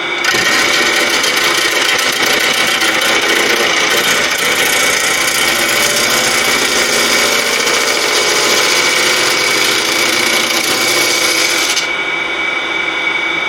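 A wood lathe spins a large Australian blue gum bowl while it is hollowed out. A loud, continuous whirring hiss of the cut holds steady, and the bright upper hiss drops away shortly before the end. No one talks.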